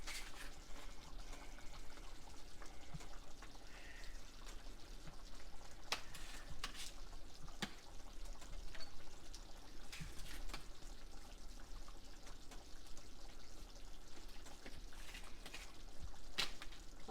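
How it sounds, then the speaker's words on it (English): Water goes into a pot of Cajun-style snapping turtle gravy, producing a low, continuous sizzling and bubbling with faint watery splashes and occasional clinks, heard quietly throughout. "I'm going to add a little water to it too"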